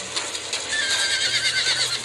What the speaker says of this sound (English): The horses halt.